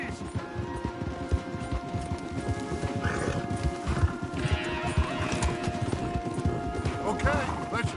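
Horses' hooves clip-clop steadily in the video game Red Dead Redemption 2, a rapid, continuous patter of several animals on a path, with occasional voices over the hoofbeats.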